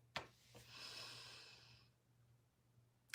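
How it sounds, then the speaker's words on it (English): A single slow, audible inhale through the nose by a person seated in a chair during a quiet mindfulness exercise, close and soft, with faint breathy exhale traces and brief clicks at the edges. "I'm gonna breathe in."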